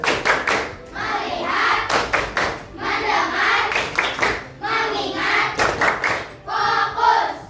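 Classroom children perform a 'tepuk fokus' clapping chant, bursts of sharp rhythmic claps alternating with the group chanting between them, repeating in a steady patterned cycle.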